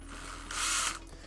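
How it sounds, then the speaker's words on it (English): A power drill spins a 1000 grit sanding attachment for finishing armor pieces, a short whirring burst that swells and fades within about a second, close and moderately loud, with no talking. "for this one I'm going to go ahead and lock it back into the drill"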